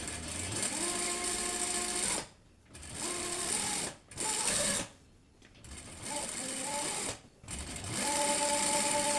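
Sewing machine stitching patchwork fabric for a scrap-fabric bag, several runs of fast whirring stitches separated by short pauses, close and steady, with no talking.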